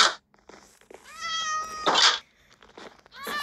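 Cats meow in a Minecraft zoo, with a few loud, clear game meows and bursts of harmonic cries standing alone, separated by short quiet gaps.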